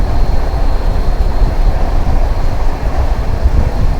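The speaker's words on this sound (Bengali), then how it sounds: "এবার ট্রেনটা কার্ভ নিচ্ছে" Saraighat Express passenger train rounding a curve on an Indian line, a steady loud rumble of wheels and carriages rolling continuously close by, no voices.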